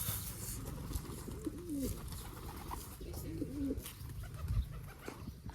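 Pigeons coo softly in two separate rolling phrases over a steady outdoor hiss, with no talking.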